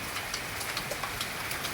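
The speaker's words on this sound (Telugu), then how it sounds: "ఇదిగోండి చూసారా ఎలా పడుతుందో వర్షం" Heavy rain pours steadily onto a banana plantation, a dense, even hiss of drops with faint pattering bursts, no voices over it.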